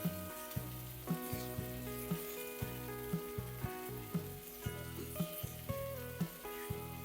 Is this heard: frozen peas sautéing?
yes